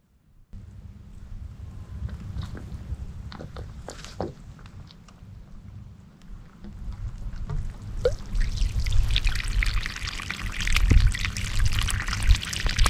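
Water is poured onto dry, hard soil to soften it before digging post holes for a solar array, a continuous pouring and splashing that builds louder toward the end, with some scattered knocks and no speech.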